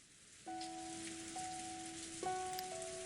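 Soft rain falls on a rose garden in the video game Umineko Chiru. A quiet hiss of rain runs under gentle, sustained chime-like musical tones that enter and change partway through.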